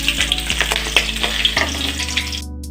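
Pieces of onion, ginger and garlic fry over low heat in hot oil with panch phoron, giving a loud close sizzle with a few scraping stirs before it cuts off abruptly at the end.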